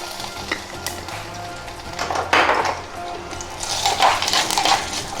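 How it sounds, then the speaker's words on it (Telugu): A small pinch of chili powder drops into a hot, sizzling tempering for rasam, crackling loudly and unevenly up close while a utensil clinks and stirs in the pan. "ఇప్పుడు కొంచెం కారం వేస్తున్నాం"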